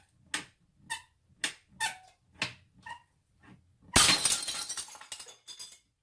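A plastic ruler bent by hand in a classroom creaks and clicks in several separate strained bursts, then snaps with a sudden loud crack followed by a scattered clatter.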